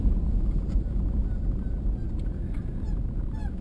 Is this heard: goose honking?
yes